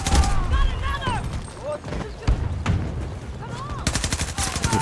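A PP-29 submachine gun fires in Battlefield 2042, with loud rapid automatic bursts near the start and a dense burst at the end, mixed with in-game effects and someone talking over it.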